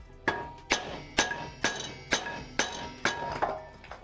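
Repeated blows struck against the rear brake disc on a Toyota Supra to free it, eight sharp, ringing metallic hits at an even pace about half a second apart, close and loud, with no voices.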